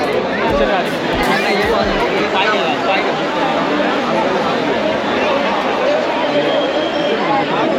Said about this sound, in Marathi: गर्दी झाली आरतीसाठी बघा तुम्हाला